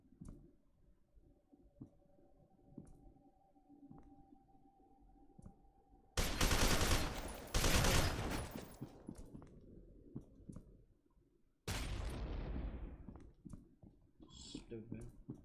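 Submachine gun fire in the first-person shooter F.E.A.R. 2: Project Origin, two loud bursts of rapid shots in close quarters, each trailing off, with quiet game ambience between them.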